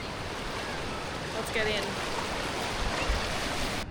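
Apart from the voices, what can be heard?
ocean waves washing up on the beach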